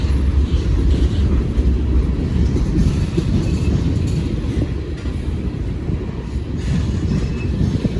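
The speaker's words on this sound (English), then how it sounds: "Man, this is a long train." A long freight train rolls past nearby with a loud, steady rumble and rattling wheels, occasional faint squeals, continuous throughout; an axle is overheated.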